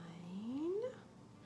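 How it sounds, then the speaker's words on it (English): A short, high whimper rises in pitch and fades, a single plaintive whine from a puppy close by. "we also have a new puppy that will not stop barking"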